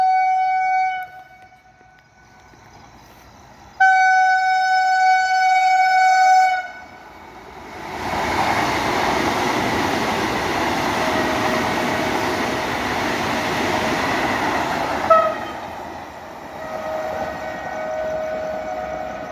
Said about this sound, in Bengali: চলে গেল বন্দে ভারত